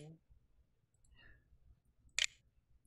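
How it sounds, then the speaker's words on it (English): A single sharp click from a built-in laptop computer keyboard, brief and fairly faint against a quiet background, with a soft voice at the start. "the built-in computer keyboard makes a little clicky sounds"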